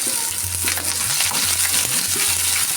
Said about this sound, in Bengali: এটা একটু ভেজে নেব সামান্য